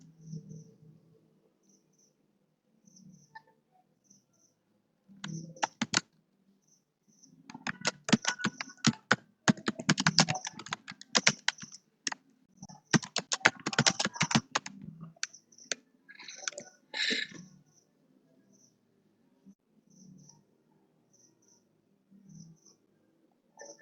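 Someone types a prompt on a computer keyboard in fast, close clicking runs, with a steady chirping of crickets in the background and quiet pauses between bursts.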